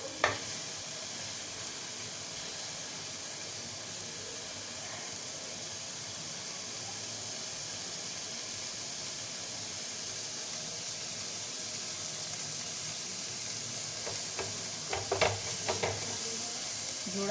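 Chicken kebab fries over a high gas flame, giving a steady, fairly quiet sizzle and hiss that runs throughout, with a few faint clinks of utensils near the end.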